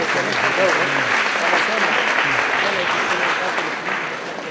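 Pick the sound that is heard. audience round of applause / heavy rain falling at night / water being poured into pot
audience round of applause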